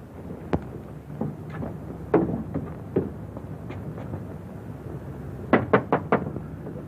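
Sharp knocks on a door ring out over a murmuring room: a single rap, a few scattered knocks, then a quick run of four firm raps near the end, in a 1940s comedy film.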